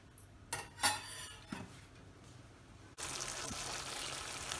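Metal lid set onto a pan of simmering okra masala in a home kitchen, a few soft clanks and clinks, then a steady low sizzling hiss after the lid closes.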